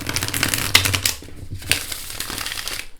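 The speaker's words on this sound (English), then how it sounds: "Now let me show you how it shuffles." Witch-themed tarot card deck being shuffled by hand, crisp rapid riffling and flicking of cards in two close bursts, loud and alone without talk.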